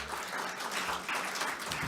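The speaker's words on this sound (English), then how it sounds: "Let's give her a round of applause so she can hear us." An audience at a panel event gives a round of applause, a dense continuous wash of clapping with no talk, steady in loudness from start to finish.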